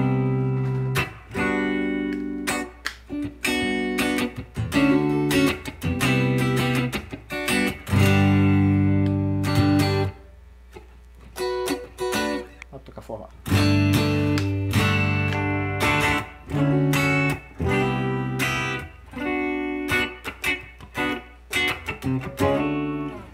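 Electric guitar played loud through a Nano Cortex using its Fender Deluxe amp model, with strummed chords and riffs in bursts, separated by short pauses, close and without talk.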